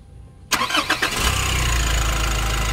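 A Nissan NV350 van engine, earlier troubled by strong vibration and fuel knock, cranks briefly and catches, then settles into a steady, loud idle close by.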